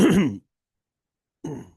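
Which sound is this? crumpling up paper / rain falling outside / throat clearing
throat clearing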